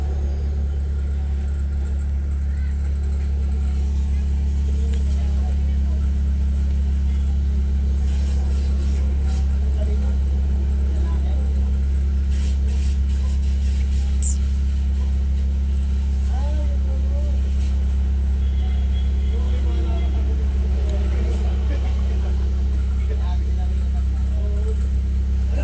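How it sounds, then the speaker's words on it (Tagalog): A Honda Civic engine with a minor misfire, idling close by as a steady low rumble and drone whose level shifts slightly, with faint talking under it. "pabago-bago yung RPM niya. Baba taas"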